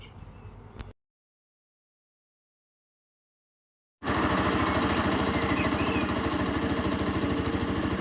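A motorcycle engine runs at a steady idle, close and loud, starting abruptly after a short burst of other sound and a stretch of silence.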